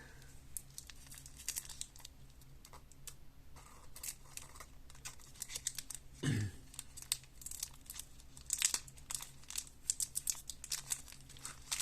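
A Harry Potter Adventures at Hogwarts booster pack is torn and crinkled open in close, faint bursts of foil rustling and ripping, with a quieter stretch between them.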